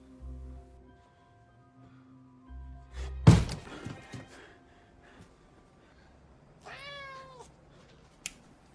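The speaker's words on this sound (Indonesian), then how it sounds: "ternyata seekor kucing Oyen yang masuk lewat jendela sedang memakan serealnya" In an animated film, a ginger cat enters through a window with a loud single thump and some rustling, followed seconds later by a clear, drawn-out meow in an otherwise quiet room.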